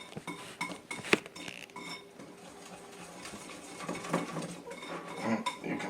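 Flax seed batter being stirred in a bowl, with a utensil repeatedly clinking and scraping against the sides in an irregular rhythm, close and fairly quiet.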